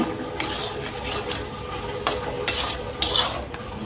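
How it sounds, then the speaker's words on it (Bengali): Pointed gourd fries in spice paste in a pan and is stirred. A steady frying hiss runs underneath, broken by occasional sharp scrapes and clinks of the spoon at irregular intervals. "পটলগুলো দেওয়া শেষ, এখন ভালোভাবে কষিয়ে নিচ্ছি"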